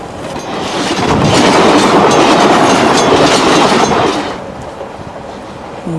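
Inside a moving train, the loud rumble and clickety-clack of the wheels swell, hold steady, then ease off to a quieter hum.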